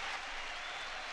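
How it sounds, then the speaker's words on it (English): A crowd in the video game DRAMAtical Murder cheers and applauds in a dense, continuous wash of noise, steady and moderately loud throughout with no distinct voices standing out. "the noises of cheering all around clogged up my ears"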